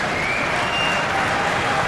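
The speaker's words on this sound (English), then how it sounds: "They're banging their feet, they're clapping their hands, they're waving their towels." A bowling crowd at the 1999 Masters claps and stomps in a loud, dense, continuous roar of applause that fills the whole moment without pause.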